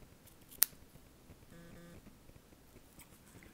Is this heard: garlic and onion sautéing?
no